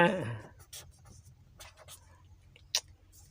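Numbers are written down on paper with a pen, soft scratchy strokes in short bursts under quiet background noise, following a voice at the start.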